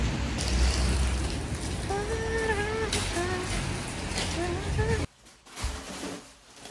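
Steady rain on a cold day in the UK makes a broad, constant hiss. A voice is heard briefly partway through, and the rain noise drops away sharply near the end.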